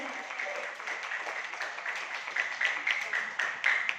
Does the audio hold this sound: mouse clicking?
no